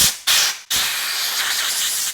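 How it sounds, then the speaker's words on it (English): Compressed air hisses in loud, close bursts as it blows out a cleaned Briggs & Stratton 550EX engine carburetor, two short blasts followed by a longer sustained spray. "Now we're just gonna blow dry this all out with some compressed air."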